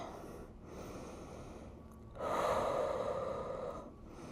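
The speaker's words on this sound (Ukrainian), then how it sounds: "робимо вдих та видих" Slow breathing in and out during a stretching exercise, close to the microphone, with a soft drawn-out exhale followed by a stronger, louder breath.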